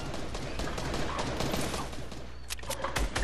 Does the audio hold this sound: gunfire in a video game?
yes